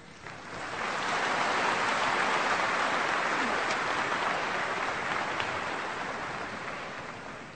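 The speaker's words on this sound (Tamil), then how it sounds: "அந்த அமோக கரகோஷம் அவர் நெஞ்சை குளிர்வித்திருக்கும்" Loud applause from an audience after a speech at a formal function, a dense, steady wash of clapping that swells in, holds strong for several seconds and slowly tapers off.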